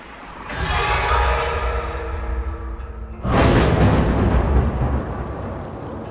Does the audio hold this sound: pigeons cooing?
no